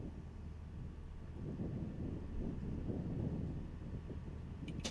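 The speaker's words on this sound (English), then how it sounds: "You can hear the wind over the microphones." Wind gusts over the microphones at an outdoor archery field, making a steady low rumbling buffet that swells and eases without pause, with no talking.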